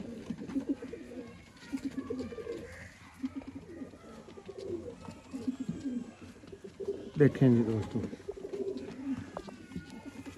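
Sialkoti Ali-wale pigeons coo in low, rolling bursts close by, repeating through the stretch, while someone talks over them.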